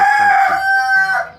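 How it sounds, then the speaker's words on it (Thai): On a small farm a rooster crows once, loud and close, a drawn-out harmonic call lasting over a second, with chickens nearby. "ไก่"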